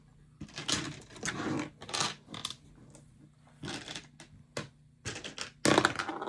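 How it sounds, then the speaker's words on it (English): Dice are thrown and rattled during a Star Wars Legion tabletop game, making several sharp, close clattering bursts in irregular succession with short pauses between them. "He's throwing dice."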